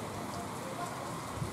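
Steady rain falling in the mountains of the Western Sayan, Ergaki, a dense soft hiss of drops on surfaces, continuous and fairly quiet with no talk.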